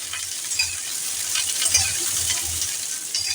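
Bitter gourd pieces fry in oil in a pan over low-to-medium heat, giving a steady hiss and sizzle with soft clinks of stirring, close and moderately loud with no talking.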